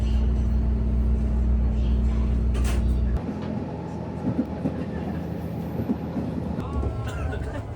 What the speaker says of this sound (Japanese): カンパチ16に転用されている JR 九州キハ125系気動車とも遭遇できました。